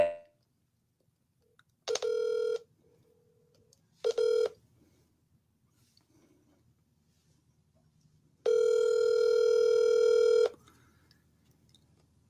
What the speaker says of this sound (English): Here we go. It's ringing.